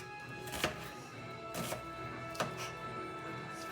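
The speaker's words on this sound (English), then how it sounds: "And then I just like to slice it down the side." A knife slices down through a turnip for greens on a cutting board, giving three crisp, evenly spaced chops with quiet pauses between them.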